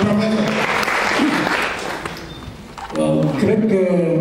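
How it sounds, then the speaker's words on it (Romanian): Audience applause fills a Romanian cultural talk about Eminescu and the nation's culture, a steady dense clapping that fades after a few seconds before a voice resumes speaking. "Aplauze!"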